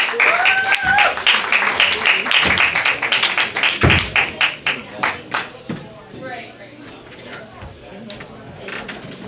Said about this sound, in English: I want you to start clapping it up for the very funny Mr. Royce Emley, everybody.